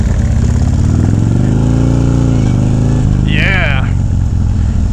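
An Ultra Classic motorcycle engine drones loud and close with a steady low rumble while riding, the pitch sagging and rising as speed changes, with a brief short remark from the rider over it.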